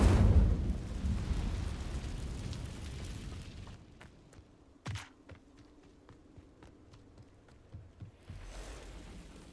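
An Incendio fire spell cast in Hogwarts Legacy opens with a loud roaring whoosh of flame that fades. A sharp boom follows, then a scatter of quieter snaps and crackles.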